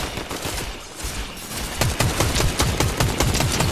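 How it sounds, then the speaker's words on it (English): A gun in a battle royale video game fires on full auto: steady rapid bursts of shots that grow denser and louder midway, with no talk over them. "My gun's fucking auto firing by itself again."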